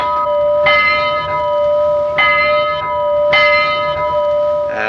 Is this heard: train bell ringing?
yes